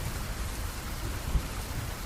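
Heavy rain pouring steadily outdoors, a dense even hiss with a low rumble and one brief soft thud like distant thunder.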